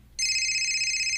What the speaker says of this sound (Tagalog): Nibagti ang telepono.